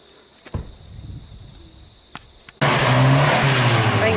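An off-road car engine, out in the bush, suddenly roars into a hard, sustained rev. It follows a quiet stretch of insect chirping and a few knocks, then stays loud and close.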